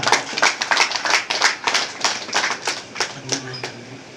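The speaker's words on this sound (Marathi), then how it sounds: "त्यांचे जोरदार स्वागत आणि टाळ्या वाजून करूया" An audience at a felicitation ceremony claps to welcome the chief guest, producing a run of distinct, fairly close claps in an uneven rhythm that gradually thins toward the end.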